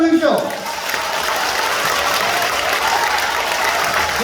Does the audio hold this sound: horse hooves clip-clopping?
no